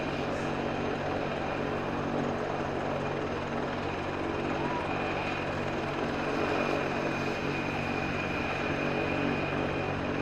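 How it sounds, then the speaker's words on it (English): A constant, loud helicopter rotor drone fills the air over a baseball game, steady and unbroken, building slightly louder toward the end. "the sound that helicopter is making is coming through as clear for the broadcast as it is my ear"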